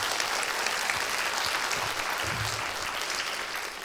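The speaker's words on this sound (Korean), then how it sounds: "우리 한유진 위원장에게 마지막으로 박수 한 번 더" Residents at an apartment reconstruction briefing give a committee chairman another round of applause, a dense, even wash of clapping from a large crowd that holds steady throughout without any talk.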